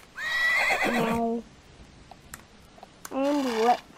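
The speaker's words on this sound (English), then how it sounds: "neigh," Two horse neighs from the Roblox game Horse World, a long whinny followed by a shorter one after a quiet gap with faint clicks, loud and close with no talk.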